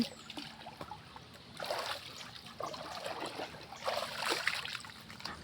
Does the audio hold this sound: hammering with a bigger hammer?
no